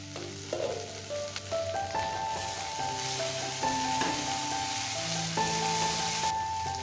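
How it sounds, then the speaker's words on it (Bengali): Malabar spinach shoots cooking with fish oil sizzle steadily in an uncovered pan while being stirred with occasional scrapes, a faint tonal hum running underneath. "এবার ঢাকনা সরিয়ে আবারও কিছুক্ষণ নাড়াচাড়া দিয়ে নেব।"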